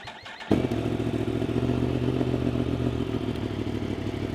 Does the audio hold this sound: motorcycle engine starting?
yes